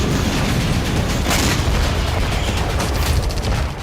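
Explosion from combat in the Russia-Ukraine war, heard as a loud, sustained roaring blast with broadband rumble and crackling bursts throughout, no voices.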